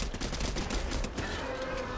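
Dense, continuous gunfire from a video game shootout, loud and sustained across the whole stretch with overlapping rapid shots and no clear pauses.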